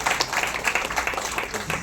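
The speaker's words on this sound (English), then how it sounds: "Let's give a big round of applause." An audience at a tech conference gives a round of applause for a co-founder, dense clapping at steady volume filling the hall, close and continuous throughout.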